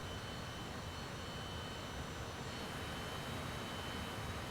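An aircraft taxiing toward the runway in Microsoft Flight Simulator, a steady, even engine rumble and hiss holding at one level throughout with no voices.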